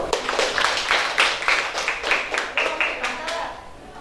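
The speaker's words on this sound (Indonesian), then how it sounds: "Yuk, tepuk tangan dulu" A class of schoolchildren claps their hands together in a short, moderately loud burst of irregular claps that gradually thins out and fades.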